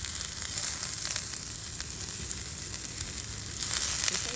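Onions sizzle and fry in a pan for a breakfast burrito cooked outdoors on a cold morning, a steady close crackling hiss with occasional louder pops.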